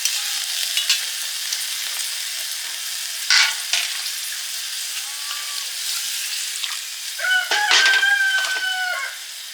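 Boiled eggs coated in salt and turmeric frying lightly in mustard oil, a soft continuous sizzle with a few stirring knocks, while a rooster crows and chickens call nearby, loudest toward the end.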